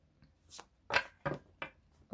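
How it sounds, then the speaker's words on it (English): A deck of cards being shuffled during a pick-a-card reading, heard as several short riffling bursts close by and fairly quiet, spaced out over a couple of seconds with no talk. "Wow, that was such a crappy shuffle."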